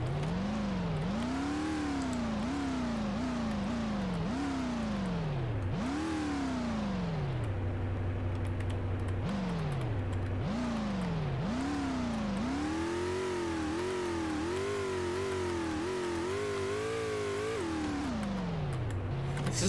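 Tails' game vehicle driven on Rainbow Road in Garry's Mod gives a loud, close, synthetic engine whine that revs up and drops back repeatedly in steady rising sweeps, with no voices over it.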